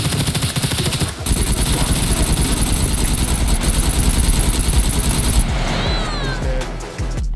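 Rapid, sustained automatic gunfire in the survival game SCUM is aimed at a chasing zombie. The shots are loud and close, rattling continuously for several seconds before cutting off into quieter game ambience.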